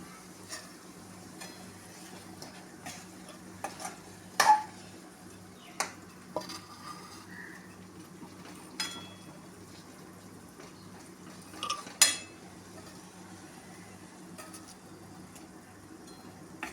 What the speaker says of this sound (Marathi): बाजूने तेल सुटलेलं आहे यामध्ये आपण आता तळून घेतलेले अंडे ती याच्यामध्ये टाकायची आहेत